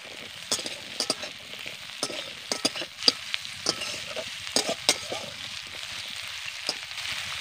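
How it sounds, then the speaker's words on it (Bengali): Cut potatoes fry in oil in a pan for a puti fish curry, a soft steady sizzle broken by irregular scraping and clinking as they are stirred, fairly quiet and close. "প্রথমে আমি আলুকে ভালো করে ভেজে নেব।"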